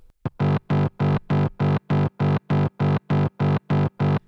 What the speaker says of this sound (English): So I'll use this bass line again to distort it with a tone of -50. You'll hear it sounds a lot more filtered.